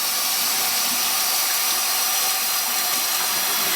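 Cool tap water gushes steadily into a home-brewing bucket, a continuous close, loud hiss and splash that holds evenly from start to finish with no talking.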